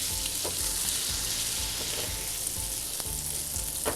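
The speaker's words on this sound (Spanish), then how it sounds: "Vamos a poner nuestro pescado que ya le agregué sal y pimienta" Small cubes of seasoned tilapia fry in melted butter and olive oil in a pan, giving a steady, bright sizzle close up, punctuated by occasional soft knocks and stirring sounds.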